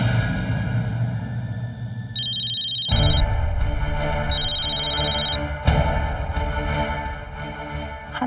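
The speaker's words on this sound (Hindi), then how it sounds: "हेलो शर्मन, इतनी रात गए फोन किया?" An electronic telephone ringing late at night in a Hindi TV drama scene, its repeated high warbling trills sounding loud and clear in several bursts over a steady low background drone, with no talking.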